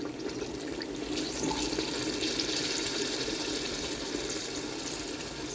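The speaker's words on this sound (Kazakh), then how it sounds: "Суымызды құямыз, осылай." Water poured into a pot of carrots and meat for Tashkent plov, a steady close splashing pour that runs evenly for several seconds without speech.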